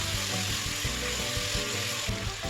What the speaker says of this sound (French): je vais continuer par tourner jusqu'à ce que les oignons deviennent tendres